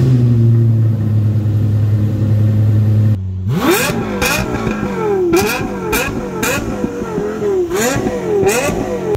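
A Lexus LFA V10 engine revs hard. After a steady droning idle, a sharp cut gives way to a series of loud, rising high-pitched wails, each snapping back with crackles before climbing again.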